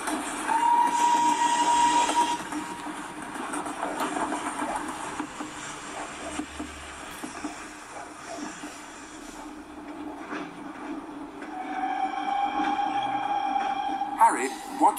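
A train rumbles and hisses as it pulls away, with steady rolling noise and a high whine, while people talk over it.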